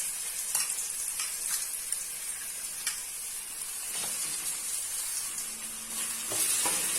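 Mustard seeds spluttering and chopped onions frying in a pan for a curry gravy: a continuous close sizzle with scattered pops and stirring, no voices.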